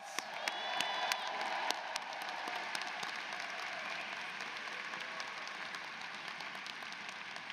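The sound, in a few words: audience applause at law school commencement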